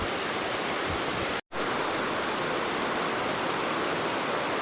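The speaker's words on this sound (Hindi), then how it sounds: "पानी का जो करंट है, जो साउंड है, उसको फील कर सकते हो आप" Steady, loud roar of the rushing Ganges at Nandprayag confluence, Uttarakhand, a dense continuous wash with one brief dropout.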